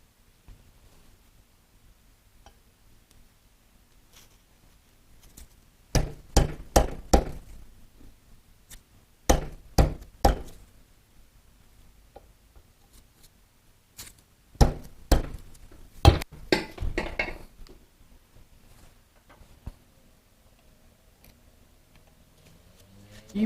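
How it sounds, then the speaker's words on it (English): A flat blade screwdriver pries a seal out of a motorcycle wheel, giving bursts of sharp clicks and scraping knocks in two clusters separated by quiet. "Now, with a flat blade screwdriver, pry out the seal"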